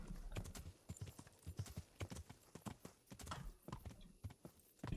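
Horse hooves clip-clop in a rapid, uneven gallop in the medieval video game Kingdom Come: Deliverance, close and fairly loud, with no talking.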